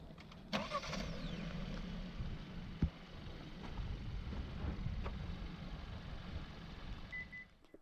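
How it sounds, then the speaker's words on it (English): A 2021 Kia Seltos SX Turbo AWD engine fires up by remote start with a quick cranking catch, then settles into a steady, soft idle heard from outside the car. "First you need to lock the vehicle, then press and hold the remote start function"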